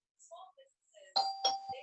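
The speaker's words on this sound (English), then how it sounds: "Someone's ringing the doorbell." A house doorbell rings with two bright chimes in quick succession, clear and fairly close, following a stretch of quiet scattered tones.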